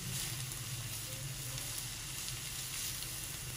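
Onions frying on a tawa until light brown hiss in a close, steady sizzle that carries on without a break, with no voices over it.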